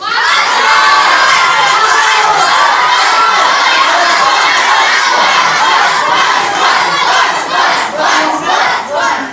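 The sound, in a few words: crowd cheering and applauding after a song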